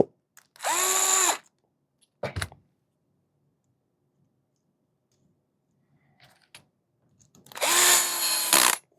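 A power drill drives screws into a 3Racing Sakura D6 GA Red RC car chassis, with two loud whirring bursts a few seconds apart as the clutch slips and ratchets, separated by a short click and quiet handling noises.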